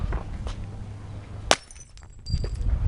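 A glass bottle lying on the floor is struck with a stone and breaks in one sharp, loud smash, followed by faint tinkling of shards amid low room noise.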